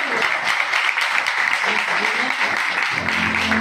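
A church congregation at a Friday healing meeting claps loudly and continuously, a dense burst of applause with voices talking under it.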